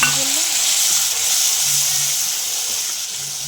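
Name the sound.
tomato paste with ginger and garlic frying for chutney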